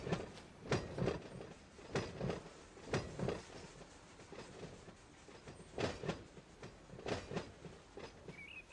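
Freight train cars rolling in the Run 8 train simulator game at a yard, with rhythmic clickety-clack wheel thumps over rail joints, moderately close and steady with no voices.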